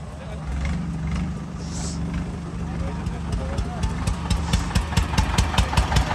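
Eicher tractor engine chugging close by in a crowded outdoor tochan pulling contest, a loud low throbbing idle that turns into a rapid knocking beat, with people talking over it.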